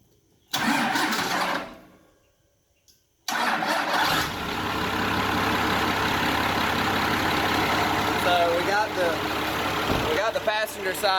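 A 1994 Dodge truck with stock exhaust, running on one battery, cranks briefly, pauses, then fires and settles into a steady, rumbling idle close by, with a voice speaking over the engine toward the end.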